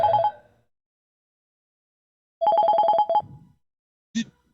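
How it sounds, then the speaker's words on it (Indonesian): A telephone rings with an incoming call: a short electronic ringtone burst, then a longer rapid trill of repeated tones, and a brief final chirp, loud and close with silence between, no talking. "Nah ini ada telepon masuk ya."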